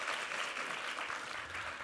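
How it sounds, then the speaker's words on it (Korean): A church congregation applauds together during a Sunday service to encourage two choir conductors, with brisk, sustained clapping throughout and no talk over it. "우리 두 분 지휘자님들 힘내시라고 한번 격려의 박수 부탁합니다."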